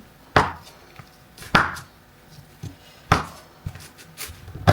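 Knife chopping white chocolate in a home kitchen while making cookies: four or five sharp, separate chops at an uneven pace, with quiet gaps between them.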